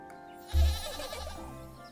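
A goat in the game Little Goody Two Shoes gives a single short bleat, close and clear, trailing off quickly.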